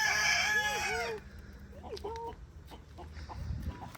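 A rooster crows loudly and close by in one long call at the start, followed by quieter rustling and faint movement in a chicken coop.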